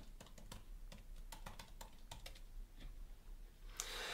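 Someone enters a password on a computer keyboard: quick, light key clicks in an irregular run at close range, with a louder click at the end.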